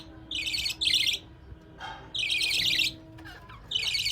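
Young pigeons in a coop give bright, high chirping calls in three or four close bursts separated by short quiet gaps.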